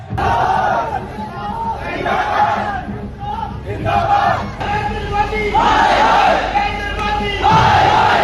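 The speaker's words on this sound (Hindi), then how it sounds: "लोगों ने मेट्रो स्टेशंस के अंदर ही नारे लगाने शुरू कर दिए।" A large crowd packed inside metro stations chants slogans in loud, rhythmic bursts, roughly once a second, with shouting voices echoing in an enclosed space.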